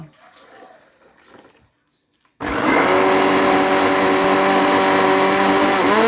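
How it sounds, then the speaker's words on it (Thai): After a quiet start, a blender suddenly whirs to life at full power, grinding lemongrass and kaffir lime zest for green curry paste, a loud steady motor whine that holds to the end. "ตะไคร้ค่ะ ลงไปปั่นนะคะ กระผิวมะกรูดค่ะ ลงไปปั่นให้ละเอียดเลยนะคะ"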